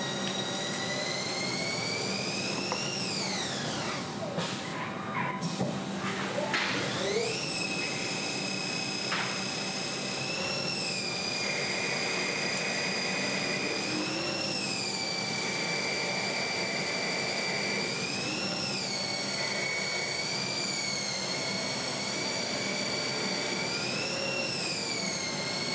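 Metal lathe or CNC machine turning bar stock into a spindle control arm for a ProPride trailer hitch, a steady machining whine with rising and falling tonal sweeps over constant shop noise, close and continuous.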